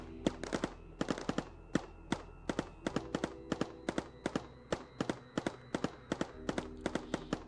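Rapid rhythmic gunfire in Mindustry, a steady stream of sharp, evenly paced shots, often in quick pairs, fired at a target, moderately loud and with no talk over it.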